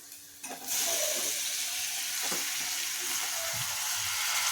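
Prawn curry sizzles loudly in a pan just after tomato goes in, a steady, close frying hiss that starts abruptly and holds unbroken to the end with a few faint stirring knocks.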